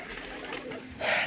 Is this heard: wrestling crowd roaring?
no